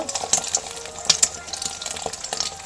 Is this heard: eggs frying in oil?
yes